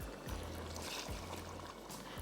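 Water is poured into a pot of cooked vegetables while fish muthia are being made. It is a steady, close rushing pour that runs throughout, broken by a few low knocks, with no talk over it.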